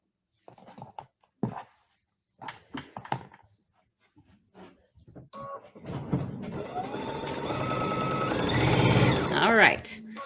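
Sewing machine stitching straight across the bottom edge of a folded quilt block piece, a steady mechanical whir that builds from about six seconds and runs on loudly, following a stretch of short talk.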